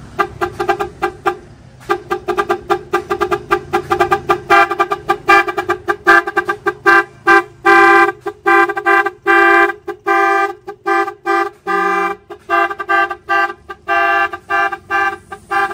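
Loud, close horn of a jeep-style tricycle blasting in rapid repeated honks and short patterns from a horn module, cycling through different tones with brief gaps.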